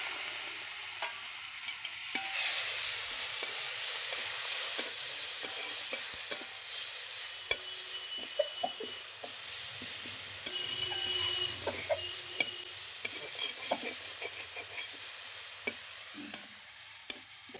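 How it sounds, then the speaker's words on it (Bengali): Cumin and chilli paste fry in hot oil for a tilapia curry with raw banana and potato, making a close, continuous hiss with scattered scraping and stirring ticks and no voices. "আমি এবার জিরে আর এই ঝাল বাটাটা তেলে দিয়ে দিচ্ছি"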